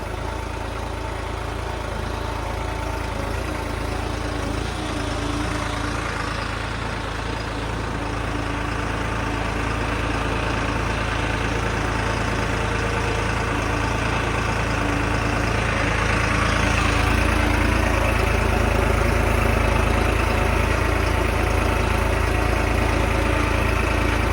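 A New Holland 5620 tractor idles steadily in a field with a low, continuous diesel rumble that holds constant and swells a little louder toward the end, with no voices heard.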